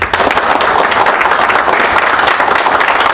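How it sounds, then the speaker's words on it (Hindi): Dense, loud applause from a seated audience at a network business training session, a steady wash of many hands clapping together with no talk over it. "एक बार अपने लिए ताली बजा लो आप"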